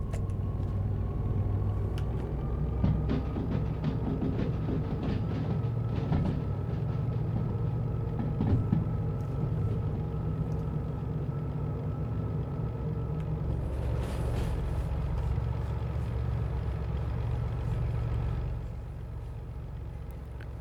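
A long freight train passes in the Derail Valley train simulator, a steady low rumble and drone with faint rhythmic clatter continuing for the whole span, loud and close without talk, dipping slightly at the end.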